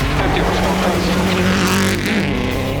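A Subaru Canada rally car revs hard at a stage start of the Pacific Forest Rally, a loud, close engine roar that surges and shifts pitch, heard under someone talking.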